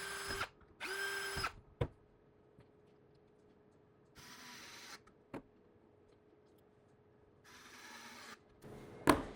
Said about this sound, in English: So there's our first set of screws in.